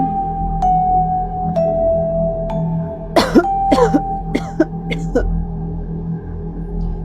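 Several sharp coughs and throat-clearing bursts break out in a cluster midway, close by, over a steady background hum.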